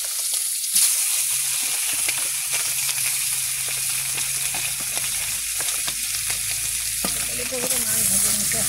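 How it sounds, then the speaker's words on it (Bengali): Fish fry in hot oil in a pan, giving a steady, close sizzle and hiss with occasional pops and stirring sounds; a faint voice is heard briefly. "মাছ ভেজে নিতে"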